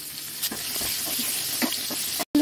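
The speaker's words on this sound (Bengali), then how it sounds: "এবারে পটলগুলোকে ভালো করে লাল লাল করে ভেজে নেব" Pointed gourd sizzles in hot oil in a pan, a steady close frying hiss with a few soft stirring bumps, ending abruptly.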